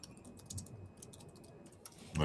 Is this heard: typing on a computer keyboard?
yes